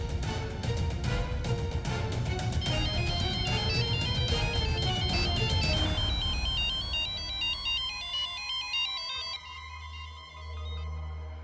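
A mobile phone ringtone plays a repeating electronic melody at home, loud and steady for several seconds before thinning to a sparser tone pattern and fading out near the end.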